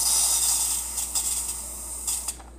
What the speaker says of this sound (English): next we're gonna use this Lysol